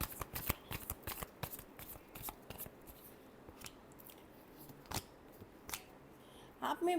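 Tarot cards are shuffled close by in a series of crisp, fluttering riffles and slaps, irregular in rhythm, with a slightly louder flurry near the end.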